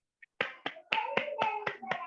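Several distinct hand claps ring out during an online training session, about seven sharp, evenly spaced claps close to the microphone after a faint tap, each with a short ringing tail.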